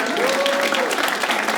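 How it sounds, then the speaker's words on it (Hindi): A studio audience gives a team a round of applause, with thick, steady clapping throughout and a brief thin tone rising and fading early on. "एक बार तालियां हो जाए टीम के लिए।"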